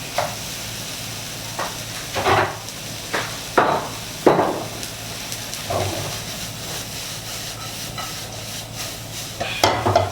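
Instant noodles stir-fried in a pan with sliced chili and green onion: bursts of spatula scraping and stirring come in irregular clusters over a steady low sizzle, close and moderately loud, with no talking.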